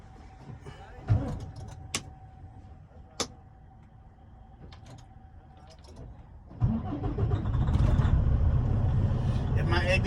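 A Freightliner Cascadia semi truck's diesel engine cranks and fires up, shifting from a quiet cab with a few clicks and a warning chime to a loud, steady idle rumble.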